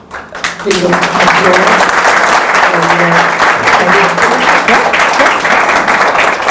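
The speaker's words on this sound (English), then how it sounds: "we should give them a great thing of applause" Loud, sustained applause from an audience at an art talk in conversation with a curator, rising suddenly after a quiet moment into steady, dense clapping with some voices beneath.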